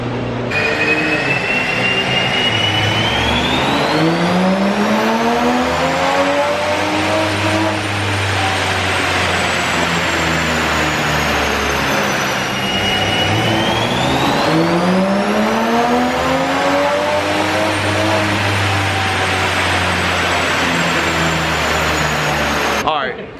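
A Toyota Supra fitted with a downpipe and running a stock tune revs hard on a dyno, engine pitch sweeping up and falling back in two loud full-throttle pulls, with talking over it.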